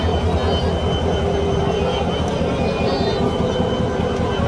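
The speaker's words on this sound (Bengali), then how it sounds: "পাশাপাশি আরেকটি ট্রেন আসছে।" A passenger train bound for Dhaka from Mymensingh rumbles steadily as another train approaches alongside, a continuous loud low roar with voices faintly in the background.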